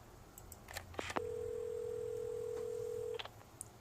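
A telephone handset gives a few soft clicks, then a steady, clear tone that holds for about two seconds before cutting off with another click, heard close and alone.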